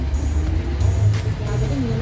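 A long articulated bus gives off a low, steady engine rumble and road hum, heard from inside the cabin and fairly loud, with a slight rise and fall in pitch.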